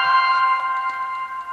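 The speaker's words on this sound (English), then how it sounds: "there'll be a chime once it reads it" An Arlo video doorbell sounds a steady electronic chime after scanning a setup QR code, a sustained bright tone lasting over a second and fading slightly, alone and close.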